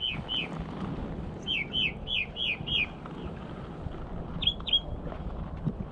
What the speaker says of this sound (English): This bird is making some beautiful music.